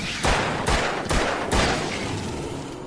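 Flare gun fired repeatedly in the Alan Wake video game, four loud sharp bursts about half a second apart, each trailing into a hissing roar, with no talk over them.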